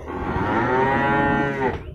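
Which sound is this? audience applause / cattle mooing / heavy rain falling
cattle mooing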